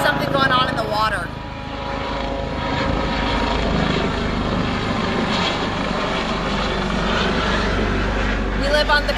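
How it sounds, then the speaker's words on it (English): A Coast Guard helicopter passes overhead near the coast, its broad engine and rotor roar holding steady and loud throughout, with a garden setting and a person talking underneath. "There must be something going on out there because there's been multiple helicopters"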